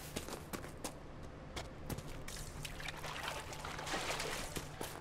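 Water flowing in a video game set in ruins, a steady splashing pour with faint dripping and trickling, with light footsteps moving through it.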